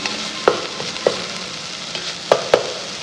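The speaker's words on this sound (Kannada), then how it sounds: "ಬ್ರೌನಿಶ್ ಬಂದಾಗ ಟೊಮೆಟೊ ಸ್ವಲ್ಪ ಫ್ರೈ ಆಗಿ" Tomatoes frying in a pan, a steady sizzle with a few sharp clinks of stirring scattered through it and no talking.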